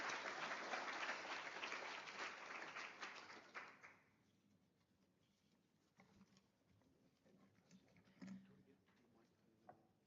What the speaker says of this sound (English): just a big hand of applause to kind of the panelists